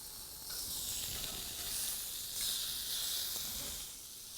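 Slices of cheese grill in a hot pan, a steady soft sizzle and hiss running throughout with slight swells, close and alone with no talk.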